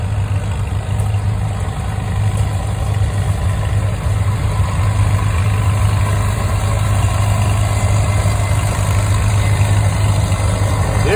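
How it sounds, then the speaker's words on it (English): An old McCormick tractor engine runs at a steady low idle, a continuous even drone with a constant low hum and no voices. "This guy is picking it with an old McCormick tractor."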